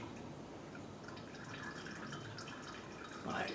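Faint trickle and drip of engine coolant draining from a hose back into a jug, a soft continuous liquid patter heard briefly at low level.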